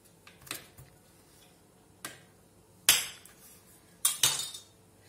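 A knife slicing raw tapioca for chips in a home kitchen, a few separate sharp cuts and knocks against the board, spaced irregularly and close by, with no talk.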